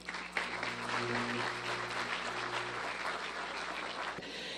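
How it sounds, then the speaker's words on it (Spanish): Audience at an award ceremony honouring journalistic work applauds a recipient, a steady, fairly distant wash of clapping lasting several seconds over a low hum before it cuts off. "queremos también que todos le brindemos fuertes aplausos a TCS Noticias"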